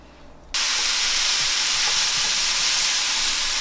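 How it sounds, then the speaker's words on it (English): Mushrooms hit a hot pan and break into a sudden loud, steady sizzle that holds at full strength after a brief quiet start. "So now I'm gonna saute my mushroom."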